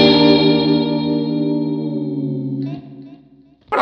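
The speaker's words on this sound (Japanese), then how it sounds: "ディレイの音だけを聞くとこう音が揺れてるだけなんですけれど、元の音と混ざることでコーラスがかかったような、" A Jazzmaster electric guitar played through an AC30 amp model, with slight distortion, modulated delay creating a chorus-like shimmer, and spring reverb, rings out as one sustained chord that slowly fades before a new attack at the end.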